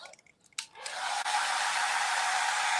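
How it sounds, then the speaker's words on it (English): A hair dryer blows on paint in a craft room. A few small knocks come first, then the dryer switches on and holds a loud, steady rushing whine close by. "I got a hairdryer."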